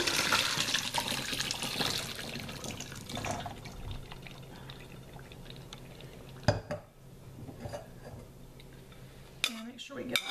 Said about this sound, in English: we're going to pour it through a strainer here.